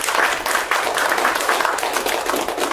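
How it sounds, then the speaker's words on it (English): An audience applauds a speaker at a presentation, a close, even patter of many hands clapping for a few seconds. "Let's give him a round of applause."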